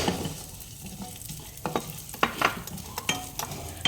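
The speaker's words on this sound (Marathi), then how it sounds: "त्यामध्ये मी लगेचच ही दोन चमचे घेतलेली उडीद डाळ पण टाकली आहे भाजायला" Urad dal and chana dal dry roast together in a pan for medu vada sambar, giving a faint crackling and rattling with scattered sharp clicks as the lentils are stirred.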